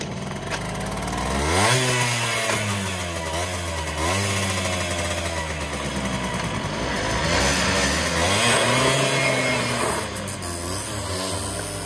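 A 1970 Zündapp KS50 moped starts up and drives off: a buzzing two-stroke engine revs up and down several times, loud and close, then runs on steadily as it pulls away.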